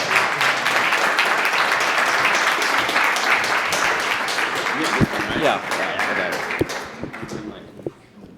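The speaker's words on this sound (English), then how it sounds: "So let's all give Patrick a nice round of applause" An audience at a speaking event applauds a speaker, a sustained burst of clapping that thins and fades near the end, with a few voices breaking through as it dies down.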